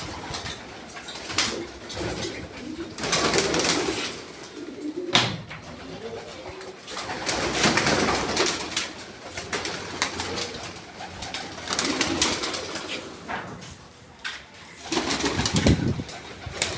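Domestic pigeons coo repeatedly, close and steady, with occasional wing flaps and rustling in the loft, while someone talks under the birds.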